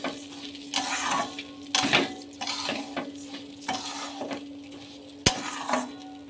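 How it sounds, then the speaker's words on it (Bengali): Gobindobhog rice frying in ghee in a pot for pulao, stirred with a spoon that scrapes and clinks against the metal in repeated bursts over a steady low sizzle. "এবার ঘিয়ে ভেজে নেব।"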